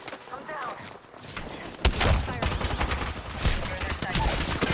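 Gunfire in a battle royale video game fight, a dense burst of shots erupting partway through and continuing loud and rapid, with voices talking underneath.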